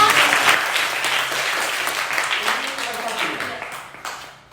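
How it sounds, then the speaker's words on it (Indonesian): Audience applause fills a school gathering in West Nias with a visiting regent, a dense, steady wash of many hands clapping for several seconds, with some voices mixed underneath. "tepuk tangan semuanya"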